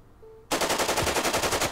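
Sustained burst of enemy automatic gunfire in the Jagged Alliance 2 game, loud and rapid with an even rhythm of shots, starting abruptly after a brief near-silence and continuing to the end.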